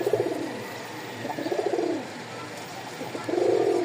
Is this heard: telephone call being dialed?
no